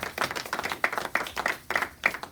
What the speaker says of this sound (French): Nous acclamons très fort notre Seigneur